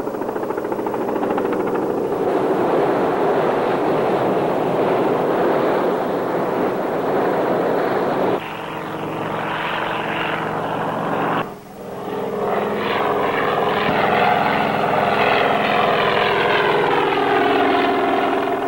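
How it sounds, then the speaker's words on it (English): A loud, steady roar of helicopter rotors and engines, holding close and constant, with the pitch shifting partway through; no voices. "From all directions, Coast Guard boats, helicopters converged on the area."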